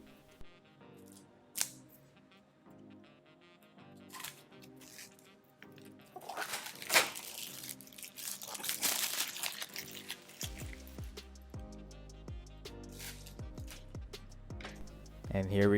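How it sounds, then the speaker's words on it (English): Plastic wrap is peeled off a MagSafe Duo box in close crinkling and tearing sounds, growing into a busier rustling stretch midway, with a few sharp clicks and a voice talking underneath. "let's find the flap right here and let's go ahead and unwrap it"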